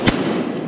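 A single sharp shotgun blast fired while duck hunting for wood ducks, loud and close, with a broadband crack at the start followed by a rolling outdoor echo that lingers to the end.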